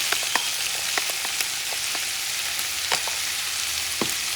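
Tomatoes sizzle as they fry with longaniza sausage for Mexican-style tacos, a steady, fairly quiet crackle with scattered sharp pops and a few faint stirring clicks, with no talking.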